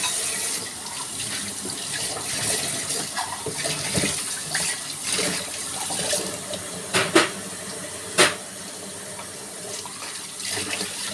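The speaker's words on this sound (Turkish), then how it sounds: "Soğuk suyla durulayım." Cold tap water runs steadily into a kitchen sink while dishes are rinsed, with a broad continuous hiss broken by a few sharper clinks and splashes near the end; no one speaks.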